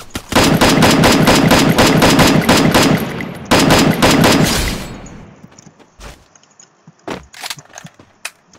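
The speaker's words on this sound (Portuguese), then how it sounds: "Ele atirando." Automatic gunfire in the video game Free Fire, long rapid bursts of loud shots for about five seconds, a short pause between them, then scattered single shots and game sounds as the firing fades.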